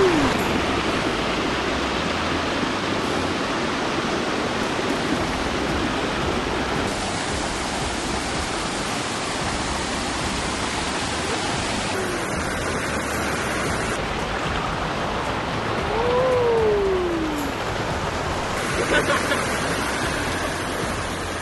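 Rushing water at Elabana Falls in the rainforest roars as a steady, loud, unbroken wash of broadband noise, with a brief faint tonal call rising above it partway through.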